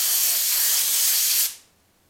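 An airbrush mists green paint for scale patterns in a steady, close, loud hiss of spray that runs for about a second and a half, then cuts off abruptly into quiet.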